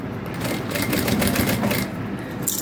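A sewing machine runs steadily while stitching a crossbody bag, giving a continuous close whirring chatter for a few seconds with no voices.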